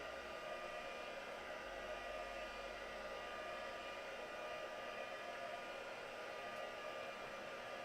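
A hair dryer blowing on freshly applied paint, a constant, even whoosh of air held steadily throughout with no pauses.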